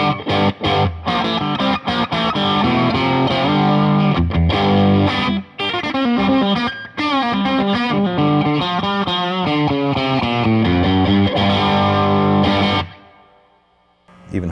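Electric guitar through a Bad Cat Cub 40R amp with the EF86 channel adding gain, loud driven chords and riffs played continuously before fading to quiet.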